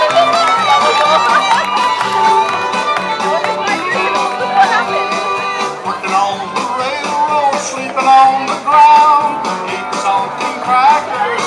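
A rodeo crowd in the stands at the 50th State Fair rodeo, cheering and shouting in a dense, continuous roar, with scattered whoops and a busy wash of noise holding steady and swelling slightly near the end.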